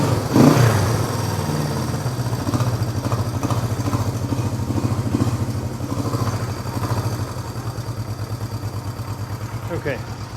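A 1971 Honda CB350 motorcycle engine, electric start not working, cranks and catches with fuel on and a little choke, then settles into a close, steady, lumpy idle with someone talking over it early on.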